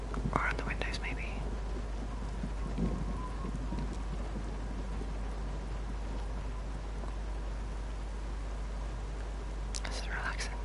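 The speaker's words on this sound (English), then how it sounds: "listen to the rain on the roof." Steady hiss of rain falling on a roof in the video game Everybody's Gone to the Rapture, continuous and soft throughout, with brief whispered speech near the start and end.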